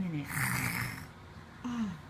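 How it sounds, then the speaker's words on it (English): A toddler snoring up close, a drawn-out rasping breath followed by a shorter second snore over faint room noise. "Oh my goodness, were you snoring?"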